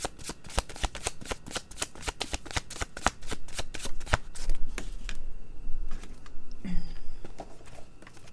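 A tarot deck is shuffled in a fast, crisp riffling run of dense card flicks, close and clear, then the riffling settles into softer slides and a single card pull.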